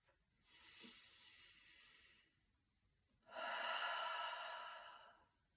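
Two slow breaths in a quiet room during a yoga relaxation: a soft, airy inhale through the nose, then a louder, fuller exhale out through the mouth after a short pause.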